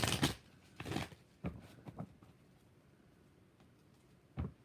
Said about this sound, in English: 2 more shuffles for Sweet Taboo